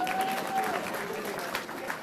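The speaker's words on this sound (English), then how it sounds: "A louder round of applause, everyone." Applause from a conference audience at a commerce and management event in Mumbai, a steady broadband patter of many hands filling the room, with a faint tonal whistle or feedback line early on.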